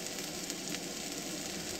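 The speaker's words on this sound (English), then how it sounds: "my steak is almost cooked" A steak sizzles steadily in a pan while cooking in a truck cab, a continuous hissing fry with no pauses, close and fairly even in loudness throughout.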